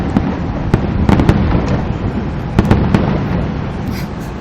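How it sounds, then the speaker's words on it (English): Canada Day fireworks in Ottawa crackle and boom in a steady stream, with several sharp louder bursts standing out over a dense rumbling background. "The delay on fireworks is crazy."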